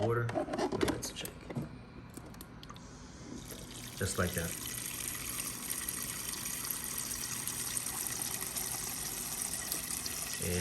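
Water runs steadily from a GE refrigerator's door dispenser after a repair, a continuous pouring stream following a louder start, with someone speaking briefly at first.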